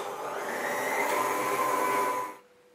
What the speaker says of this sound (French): ce que je vais faire donc c'est battre à nouveau pour que mon sucre glace soit